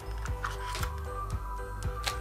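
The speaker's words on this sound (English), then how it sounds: "So I'm gonna put a battery now." A battery is fitted into a Siroflo 4K action camera. Four or five crisp plastic clicks and snaps come at a steady pace, close up, over a faint background hum.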